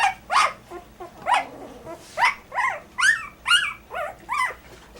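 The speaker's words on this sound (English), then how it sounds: "that little puppy right there is making all the noise" A two-week-old puppy lets out a run of high, yappy barks mixed with little growls, about ten sharp bursts in quick, uneven succession, close up.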